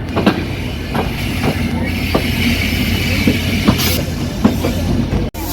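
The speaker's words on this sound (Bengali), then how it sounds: "পুরোটা ছেড়ে যাচ্ছে চিত্র এক্সপ্রেস" Chitra Express passenger train running on rails from the inside, a loud steady rumble with rhythmic wheel clicks over rail joints every half second or so, and a brief squeal near the end.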